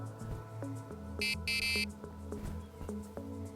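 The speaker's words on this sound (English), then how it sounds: "So that's on, alarm's on, double check." A carp-fishing bite alarm with its volume turned up gives two short, loud electronic beeps in quick succession, with a faint low hum and murmur around them.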